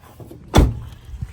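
A car door on a 1994 Chevy Impala SS opens with a single sharp latch clunk close by, followed by a short fading rattle and a faint second thud.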